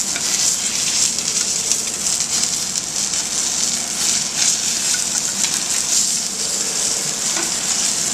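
A thick-cut snapper fillet sears in butter in a hot pan, a loud, steady, hissing sizzle with a crackling texture that holds evenly throughout, no voices.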